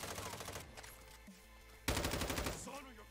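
Automatic gunfire in Modern Warfare 2, rapid close bursts at the start and again after a short pause, with some faint background game sound.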